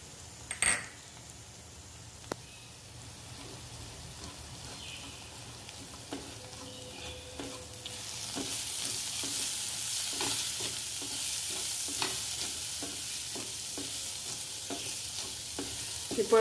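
Ragda ingredients with turmeric, chaat masala, roasted cumin powder and garam masala are stirred in a pan. Sparse spatula clinks come first, then a steady sizzle rises and carries on under rhythmic scraping taps.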